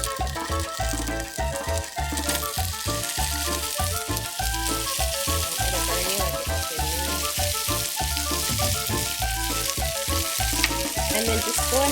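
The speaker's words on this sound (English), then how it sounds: "Just squeeze it on in there, and you're gonna hear it sizzle." Steady, close crackling sizzle of tofu frying in a hot pan, continuous throughout, over a rhythmic low thumping background.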